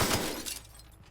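Glass shatters with a sharp crash in The Outer Worlds video game, followed by a brief tinkling tail as the sound fades within about a second.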